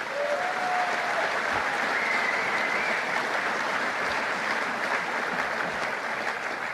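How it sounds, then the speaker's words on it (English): Sustained applause from a political rally audience, a dense, steady wash of many hands clapping that holds at an even, loud level throughout without pause. "give him one more round of applause."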